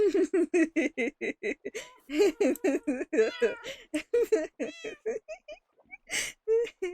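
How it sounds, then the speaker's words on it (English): Several cats meow in a rapid run of short, repeated calls, one after another with brief gaps, some higher and drawn out, fairly close and moderately loud. "Now you got 3 cats here."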